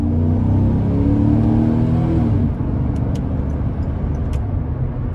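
A 4.8 V8 in a 2012 GMC Sierra 1500 Work Truck rumbles loudly and steadily under hard acceleration, its low drone continuous and close throughout, shifting tone about halfway.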